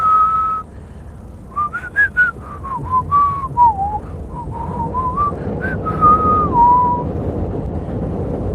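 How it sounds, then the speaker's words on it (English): A person whistles a wavering melodic tune, close and fairly loud, the notes sliding up and down over a low rumbling background hum, with no talking. "I just be over here whistling"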